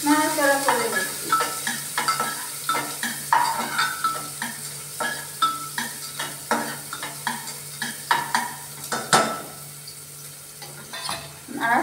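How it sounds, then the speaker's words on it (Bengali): Chopped onions frying in a pan for a lentil dish with eggplant and potato, stirred in quick repeated scraping strokes over a steady sizzle, close and continuous. "দিয়ে আমি একটু কি করবো, একটু নাড়াচাড়া করে নিচ্ছি"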